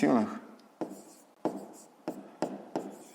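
A pen scratches on paper while numbers and units are written out for a fifth-grade maths exercise, giving five or six short, evenly spaced strokes. A brief voice is heard at the very start.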